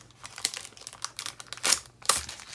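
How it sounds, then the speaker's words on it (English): Close, crisp crinkling of plastic packaging as craft ephemera frames and tags are pulled out, in irregular bursts with sharper rustles near the end, no voices. "Sorry about the crinkling."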